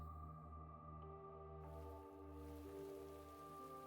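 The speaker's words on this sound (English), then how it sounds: "Raining." Rain falling in The Hundred Line: Last Defense Academy at midnight, a soft steady wash of rainfall layered with a low sustained ambient drone, faint and unbroken throughout with no voices.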